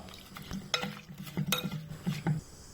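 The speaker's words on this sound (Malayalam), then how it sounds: "ചക്കക്കുരു വേവാൻ ആവശ്യമായ വെള്ളവും ഉപ്പും ഒഴിച്ച് നല്ലതുപോലെ ഇളക്കാം" Jackfruit seeds stirred with water and salt in a clay pot, giving a few scraping, knocking strokes of a utensil against earthenware at close range with no voices.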